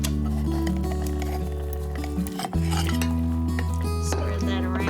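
A beef pot roast is set back into an Instant Pot's metal inner pot, making clinks and clatter of cookware and utensils, close and moderately loud over a steady background hum.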